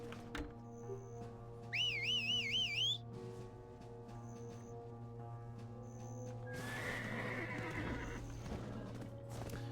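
A horse whinnies in a wavering high pitch over a steady synthetic game soundscape in Black Desert Online, followed later by soft hoof clops and rustling movement.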